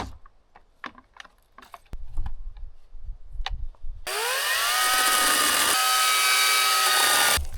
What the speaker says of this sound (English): I've bought an Einhell long reach chainsaw